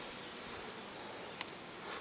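A soft, steady buzz of honey bees working at a hive in cool weather, with one brief sharp tick partway through.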